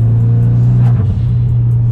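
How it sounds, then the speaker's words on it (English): A Mitsubishi Evo's turbocharged engine drones loud and close during a pull, a steady low rumble with a brief dip in the middle before the tone settles again. "let's hear the sound of the turbo"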